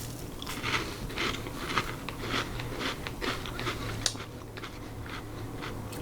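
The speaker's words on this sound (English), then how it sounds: "The outer crepe wafer is very delicate," Crunching bites of a delicate, very crunchy Indonesian banana crepe wafer snack, a series of close crisp cracks and chewing noises over a steady low hum, with no talking.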